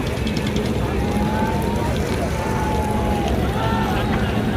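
A passenger launch pulls away on the Dhaka–Barisal river route, its engine a loud, steady low rumble under wind and water wash, with a faint voice and horn-like tones drifting in from nearby.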